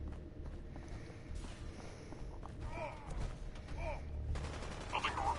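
Gunshots in a video game crack in a short flurry of rapid reports, heard fairly faint and distant amid thuds and footstep-like clatter, with brief voices around them.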